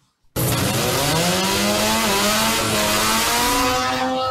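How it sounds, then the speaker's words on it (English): A loud, continuous buzzing chainsaw engine drone, a sound effect, starts abruptly and holds steady, its pitch slowly rising and wavering as at high throttle. "That's not a car. It's a chainsaw, dude."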